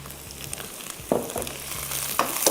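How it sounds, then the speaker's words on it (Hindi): Garlic and ginger frying in a pan, giving a steady sizzle with a few louder stirring scrapes and spatters over a low background hum. "सबसे पहला काम इसमें हमने लहसुन शामिल कर दिया, अदरक शामिल कर दिया और थोड़ा सा इसको करेंगे फ्राई"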